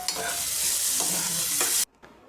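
Onions and tomatoes frying in oil in a pan, stirred steadily with a spoon, making a loud continuous sizzle with scraping strokes that stops abruptly near the end.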